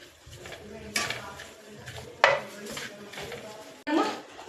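Drumstick leaves with rice powder are sautéed in a pan, with a spatula scraping and clanking against the metal in a few sharp, uneven strokes over a low background.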